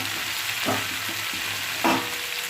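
Drumstick flowers and vegetables fry in a pan with a steady close sizzle, broken by two louder stirring scrapes, no one talking.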